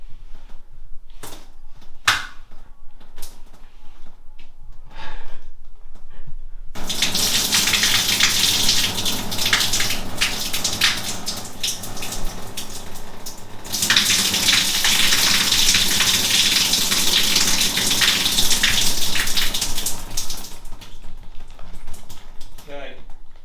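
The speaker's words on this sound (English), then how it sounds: "pour all the water that's stuck in this vent back through into the shower tray directly below" Water splashes steadily out of a bathroom extractor fan vent down into a shower tray below, a continuous close pattering that starts abruptly after a few faint taps, briefly eases, then surges again before tailing off.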